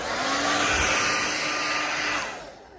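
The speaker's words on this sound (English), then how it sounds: "just going to give it a quick blow over with the hairdryer just to make sure I dry it out nice and thoroughly" A hairdryer blowing air over a freshly painted 1998 Suzuki GSX-R 600 SRAD fuel tank bracket, a steady close whirring roar with a faint whine that drops away near the end, no talking.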